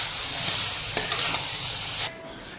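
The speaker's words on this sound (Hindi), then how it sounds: "अभी बिना लेट किए हुए इसमें हम डालेंगे अपना ये आलू गोभी। इसको अच्छे से करेंगे मिक्स।" Potato and cauliflower pieces sizzle loudly in hot oil while being stirred, with a few scraping knocks of the spoon before the frying hiss drops down.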